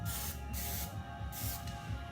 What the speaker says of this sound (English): Hairspray. So you spray in the direction.